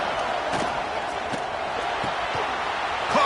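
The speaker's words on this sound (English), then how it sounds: "this crowd is fired up. Listen to this noise here." Fired-up crowd in a college football stadium video game, a steady dense roar that holds loud and even throughout, with a few sharp knocks and thumps scattered over it.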